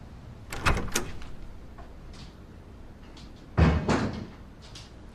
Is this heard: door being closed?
yes